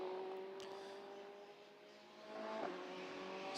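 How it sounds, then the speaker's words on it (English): Ferrari GT race car at the Hungaroring braking into turn 14 during GT Open qualifying, a moderately distant engine drone that drops in pitch as it slows, then builds again near the end. "As the Ferrari gets on the brakes into turn 14"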